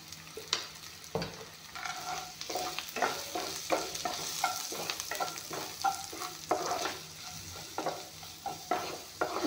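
Ground spices fry in a pan for a raw papaya dish and are stirred repeatedly. A soft, fairly quiet sizzle runs under a string of scraping, tapping stirs, with no voices.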